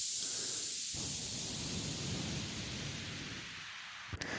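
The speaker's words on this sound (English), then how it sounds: "Standard white noise down." A white noise downsweep effect made in Ableton with the low end rolled off, a loud hissing wash that slides downward and fades over several seconds before a brief click near the end.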